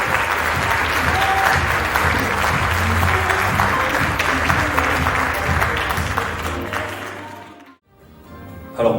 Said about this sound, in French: Un tonnerre d'applaudissements pour ces 4 associations.